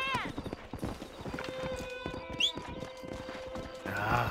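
A war horse gallops in the Red Dead Redemption video game, with rapid close hoofbeats, a whinny and snorts, and game sounds around it.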